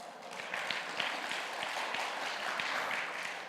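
A congregation at a faith concert in an Oregon church claps together, a brief, even burst of many hands with sharp individual claps standing out, moderately loud and without talk.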